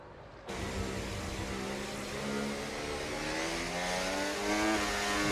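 A race car in a racing video game pulls away after a safety car period, its engine climbing in pitch with a steady, rising drone that grows slightly louder, heard alone with no voices.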